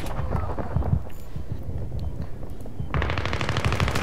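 Rapid automatic gunfire in the video game Battlefield 3, dense bursts of shots layered over one another, with a sharper, louder burst breaking in near the end.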